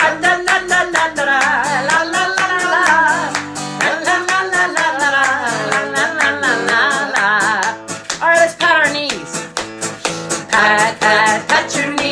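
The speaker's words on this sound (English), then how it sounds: "Clap your hands together." Children clap their hands along to a cheerful sung children's song, steady rhythmic claps running under the music and singing throughout.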